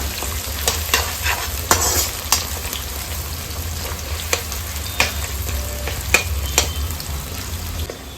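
Two medium chopped onions fry in hot oil in a pan, a loud, steady sizzle with sharp scraping stirs and spatula knocks every second or so, close up and free of talk.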